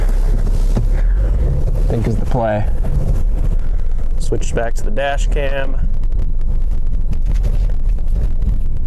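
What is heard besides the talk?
wind blowing into microphone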